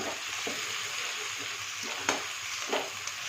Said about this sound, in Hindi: यहाँ पर अदरक लहसुन के पेस्ट को हम अच्छे से 2 से 3 मिनट तक पकाएंगे